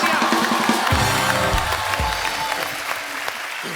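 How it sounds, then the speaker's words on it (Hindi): A studio audience at a television comedy show applauds loudly, dense continuous clapping that holds steady for several seconds. "जोरदार तालियां"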